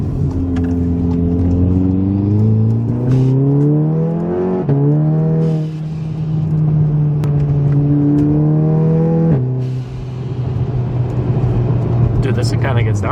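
A Volkswagen MK7 Golf R accelerating at quarter throttle, its engine note climbing steadily through the gears with a brief dip at each shift, loud and close from inside the car.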